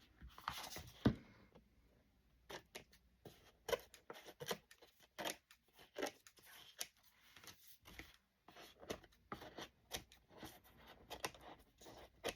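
Quiet, intermittent snips and rustles of scissors cutting paper, short irregular bursts with brief pauses, close by and soft.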